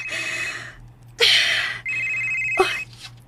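A telephone rings in a radio drama, two long electronic rings with a steady tone and a short pause between them, loud and close against a low hum.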